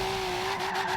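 A Volvo 850R drifting in Forza Horizon 3 gives a sustained, steady tire squeal over a constant engine drone for about a second, with no voices.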